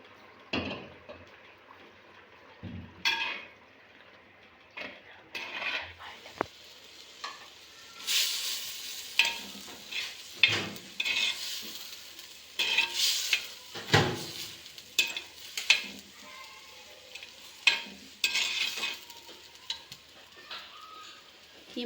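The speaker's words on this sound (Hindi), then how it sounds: "अब हम इसमें घी डाल के इसको भून लेंगे।" Minced meat (keema) frying in ghee in a pan for bhindi keema, a steady close sizzle punctuated by repeated scraping and stirring strokes from a utensil, with no talking.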